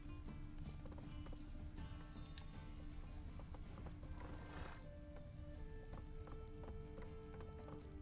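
Galloping hooves of a horse in The Witcher 3, a quick clip-clop rhythm under a dense, low game soundscape with a neigh-like tonal sweep in the middle, fairly faint throughout.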